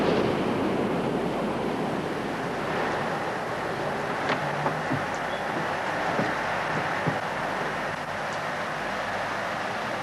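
Cold, miserable wind blows outdoors, a continuous broadband rush with a few faint knocks and creaks in the background, no voices.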